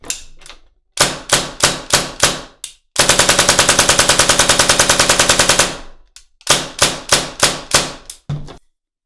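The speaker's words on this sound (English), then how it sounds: "there was the function test of the gun" A Tippmann M4 gas blowback airsoft rifle fires during a function test, with loud, close single shots in quick bursts, one sustained full-auto string of about three seconds, and more rapid semi-auto shots after it.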